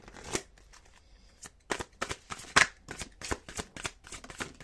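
Oracle cards are shuffled during an angel-and-crystal card reading, giving a run of crisp papery riffles and slaps in quick irregular bursts, close and fairly loud, with no voice over them.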